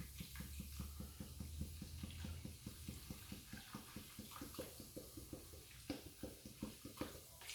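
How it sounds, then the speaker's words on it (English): Ginger beer is poured into a slow cooker over a corned beef silverside until the meat is covered, making a faint, steady splashing pour with quick fizzy ticks. "now we're just going to pour in ginger beer until it's covered the whole lot of the"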